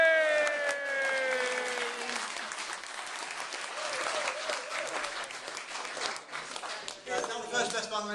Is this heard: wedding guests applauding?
yes